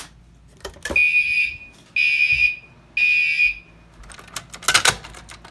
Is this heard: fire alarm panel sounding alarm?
yes